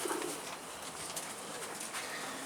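A large pigeon coos softly nearby in low, repeated calls against a steady background hiss, with no talking.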